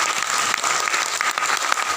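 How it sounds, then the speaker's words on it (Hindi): Vigorous applause from a crowd rolls on steadily, close and loud, a thick continuous patter of many hands clapping with no one speaking. "एक बार सबके लिए जोरदार तालियां"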